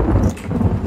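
Heavy rain with a deep rolling rumble of thunder in the video game Hunt: Showdown, loud and continuous, a dense low roar with a patter on top and no speech.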